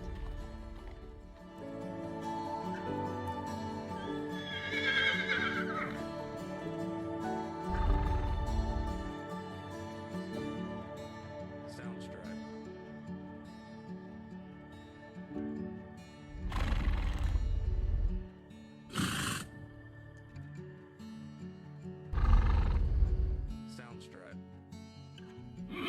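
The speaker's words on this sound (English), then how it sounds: "these ponies are so loud and demanding when it comes to breakfast" Ponies in a winter barn neighing and whinnying for breakfast, several loud calls spread apart, some with a rumbling low edge, under a person talking throughout.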